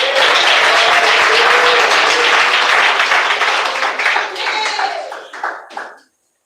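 Church congregation applauding, a dense steady wash of many hands clapping that fades out near the end, with faint voices mixed in.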